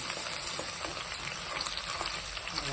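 Small onions frying in a pan for a cucumber chutney, giving a steady, dense sizzle that hisses evenly throughout with no voices.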